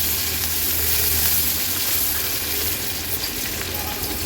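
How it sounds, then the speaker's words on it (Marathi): A small chopped onion frying in a pan for a moong dal amti, heard as an even, loud, close sizzle with low rumble underneath and no clear breaks. "एक छोटा कांदा चिरून घेतलाय तो ऍड करूया कांदा व्यवस्थित आपल्याला शिजवून घ्यायचा आहे"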